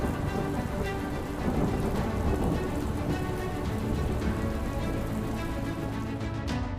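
Heavy monsoon downpour in south Gujarat, a dense, steady hiss of rain drumming on surfaces, with low thunder-like rumbles beneath and no voices.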